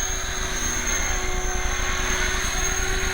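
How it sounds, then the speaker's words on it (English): Steady, loud engine and rotor drone of an MCPX helicopter, continuous and close, with a constant whine above the low throbbing chop. "God, what a powerful helicopter."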